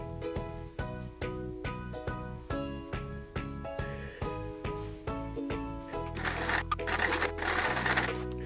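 A home sewing machine stitches blue floral triangles onto a quilt block, whirring in short rhythmic bursts of about a dozen runs before settling into one longer continuous stretch, close and clear.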